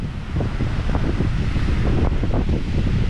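Strong wind gusts buffet a campsite where a Durston X-Mid 1 tent is pitched, a loud, close, rumbling roar that blows steadily throughout with no talk.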